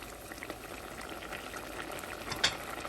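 Dried prawns and mango curry bubbles steadily in a pan over a medium flame, with soft continuous popping and a few sharper blips close to the pot.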